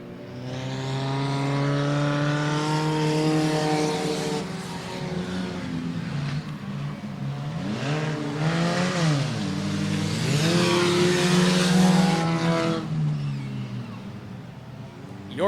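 Stock race cars charge down the backstretch during an enduro at Kalamazoo Speedway, engines droning loud and steady with rising and falling pitch as cars pass, while a commentator talks over the roar.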